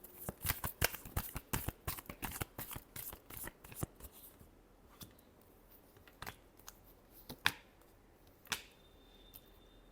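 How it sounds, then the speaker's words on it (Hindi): Tarot cards being shuffled by hand in a quiet room, a rapid run of sharp riffling clicks for the first few seconds, then a handful of sparser, isolated card snaps and taps. "Last shuffle."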